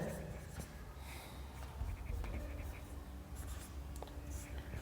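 Chalk or marker scratches and taps on a board during a physics lesson on lens formulas, faint and intermittent under a teacher's quiet speech.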